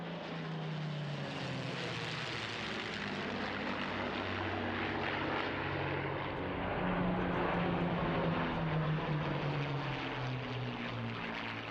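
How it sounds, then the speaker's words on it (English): A four-ship formation of P-51 Mustang warbirds drones steadily overhead at a flying display, the piston engines a continuous rumbling roar from a moderate distance that swells slightly as they pass. "The Mustang, one of the most numerous warbirds still to fly."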